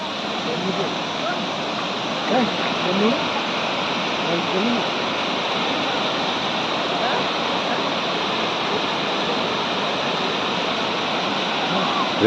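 Steady, full roar of the Anachadikuthu waterfall in Kerala fills the scene, constant rushing water with a faint voice or two underneath.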